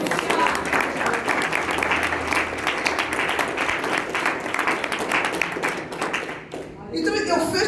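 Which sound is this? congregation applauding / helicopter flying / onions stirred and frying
congregation applauding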